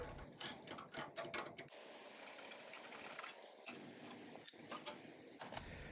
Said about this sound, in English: Use an E8 external torque socket to remove the fastener on each tip.